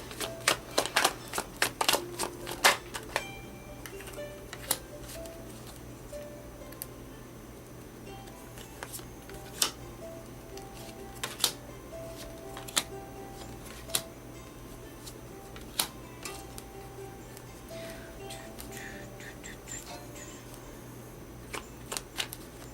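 Tarot cards are shuffled and handled close by, with clusters of crisp slaps and riffles early on, then scattered sharp card snaps and soft rustling over a quiet background.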